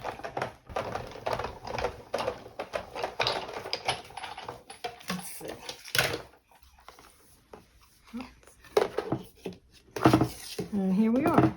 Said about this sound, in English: right now I'm going to emboss, and I'm going to use the Big Shot